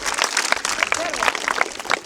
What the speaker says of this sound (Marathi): जोरदार टाळ्या याच्यासाठी